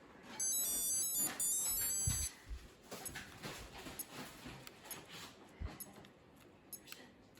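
Pac-Man LCD handheld game emitting a short burst of high electronic beeping tones, followed by faint clicking and handling noises.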